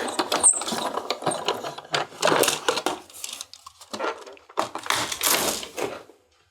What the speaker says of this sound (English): Send this through the die cutting machine to apply pressure.